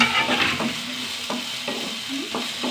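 Finely chopped onion and garlic sautéing in a pan, a steady sizzle broken by several scraping stirs of a spoon at close range, with no talking.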